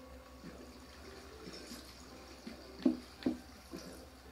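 Flowing water from a spring source in a Minecraft world, a soft steady trickle with a few brief splashy drips near the end, faint and low under a quiet game ambience.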